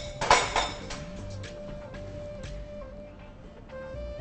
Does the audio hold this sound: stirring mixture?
yes